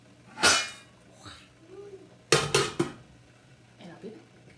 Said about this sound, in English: So let's put our cover on